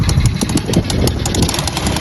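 An automatic quad bike engine idles close by before a ride, giving a loud, steady rumble with rapid rhythmic pulsing throughout.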